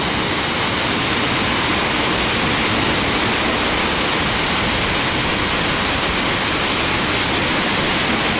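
A water feature at SeaTac Airport flows in a steady, loud, broadband rush that holds constant throughout, close by and with no voices.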